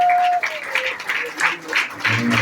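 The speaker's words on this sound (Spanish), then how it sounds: "Un aplauso al Señor." A church congregation claps in praise, a lively burst of applause mixed with voices and a tonal ring, fairly loud and continuous across the moment.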